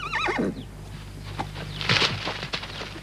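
A horse neighs loudly and close at the start, a shrill wavering whinny, followed by snorts and a few hoof clops in a quiet outdoor setting.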